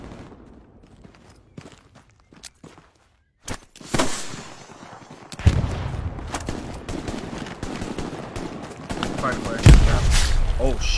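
Gunfire in a mobile war video game, sharp bursts and single shots crackling at varying distances amid footsteps and game noise, with a loud close burst near the end.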